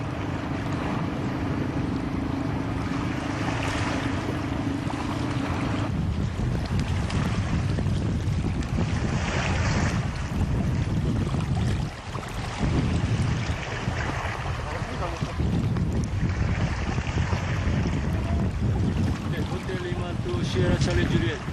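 Strong wind buffets a raft on a rough, stormy sea, a steady roar of gusts and churning water that goes on throughout with no break, loud and close.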